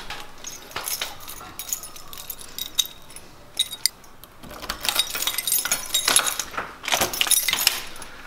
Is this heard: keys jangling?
yes